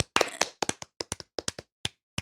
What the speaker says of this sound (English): Clap along with me so it sounds like multiple people.